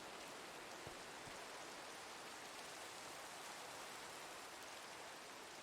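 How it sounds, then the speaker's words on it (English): Steady, soft rain falls in the Minecraft video game, an even hiss of rainfall on surfaces lasting throughout with no talking. "Ooh, and now it's raining."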